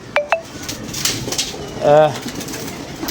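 Pet pigeons give one low, rolling coo near the middle, loud and close, after a couple of sharp clinking knocks at the start, with someone speaking and faint room noise around it.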